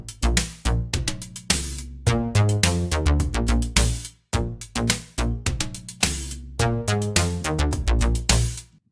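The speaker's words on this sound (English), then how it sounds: "Today I'm going to show you how to make a Moog Bass with the Europa." Moog-style bass synth patch built in Reason 12's Europa synthesizer, playing a loud, punchy sequence of rhythmic bass notes with bright attacks and short decays, heard alone without voices.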